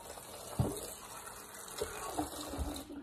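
A kitchen tap runs steadily while something is rinsed under it, with a few soft splashes and knocks breaking up the moderate, continuous flow.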